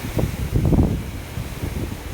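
Outdoor wind gusts buffet the microphone in a low, uneven rumble that swells and fades over a couple of seconds, with no voices.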